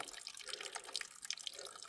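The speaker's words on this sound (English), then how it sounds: "filling up his water bottle" Water from a mountain spring on a backcountry trail splashing and trickling into a water bottle being filled, a steady close bubbling with bright drips throughout the brief clip.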